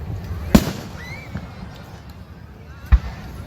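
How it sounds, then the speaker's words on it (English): Two sharp fireworks bangs, one early and one near the end, sound at moderate distance over a faint background murmur, with a thin whistling trail rising between them. "enjoy the rest of the fireworks."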